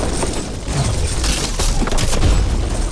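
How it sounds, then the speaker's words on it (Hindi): Giant dominoes, billed as the world's largest, topple and crash in a sustained rolling series of heavy booming thuds, loud and close with no pause. "ओह, वो धड़ाम सुन रहे हो? ओह, ये गिर रहे हैं। ओह, ये दुनिया का सबसे बड़ा डोमिनो था।"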